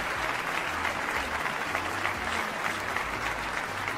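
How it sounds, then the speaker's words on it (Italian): Steady, dense applause sound effect from a large crowd, loud and continuous throughout with no pauses. "Un applauso, per favore, regia."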